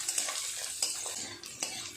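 Potatoes and onions fry in a pan and get stirred, making a soft sizzle broken by a few scraping strokes and light clinks of a utensil against the pan, up close and without voices.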